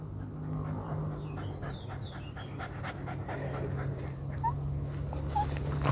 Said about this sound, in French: C'est le chien qui se promène.